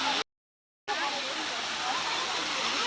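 A natural waterfall roars as a continuous broadband rush of falling water, close and steady, cut by a brief silent gap near the start.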